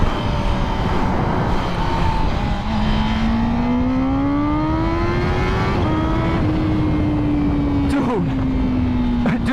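A motorbike engine revs hard and close, its whine climbing and holding steady, then easing back, loud and continuous throughout the stretch.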